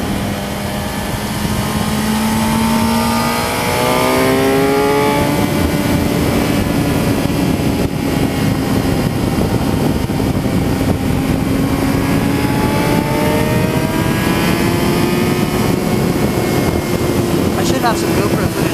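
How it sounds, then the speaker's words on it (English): An ultralight trike aircraft passes fast nearby, its propeller and engine making a loud, steady buzz with slowly shifting pitch, while someone speaks over it. "Wow, that trike is hauling ass."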